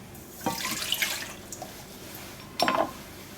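Two short splashy pours of 220 ml of warm water into a container with dry yeast and sugar for baguette dough, a brief stream then another a moment later, quiet and close.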